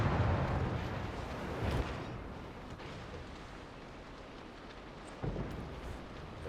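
A battleship's big-gun salvo booms out in a naval combat game, a heavy rumbling blast near the start followed by a long rolling decay and a second thump later, with no talk over it.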